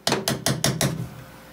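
Five quick, evenly spaced metallic taps ring out close up as a panel on an MGB GT body is knocked into place during welding repair, each strike fading briefly before the next.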